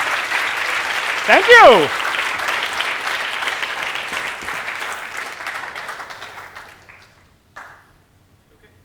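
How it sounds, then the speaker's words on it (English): Thunderous audience applause at the close of a university lecture, a dense, loud burst of clapping that gradually thins and fades out, with a brief spoken voice over it. "Wow, that's a thunderous applause."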